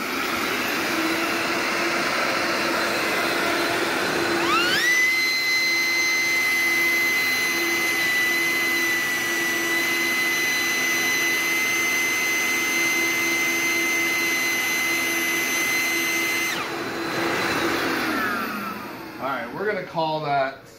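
A shop dust collector with three motors spins up around the five-second mark into a loud, steady whine that holds, then winds down near the end, close and continuous with no talk over it.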